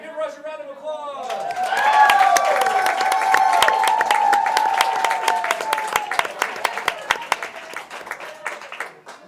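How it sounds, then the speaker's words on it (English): An audience at an Overwatch esports finals day applauds team Rush: a brief voice at the start, then loud, dense clapping with cheers and a whistle that holds for several seconds before thinning out. "give Rush a round of applause"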